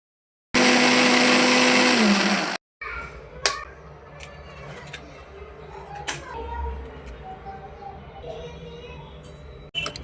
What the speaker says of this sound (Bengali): টমেটো হালকা সিদ্ধ করে নিয়ে ব্লেন্ডারে ব্লেন্ড করে নিব।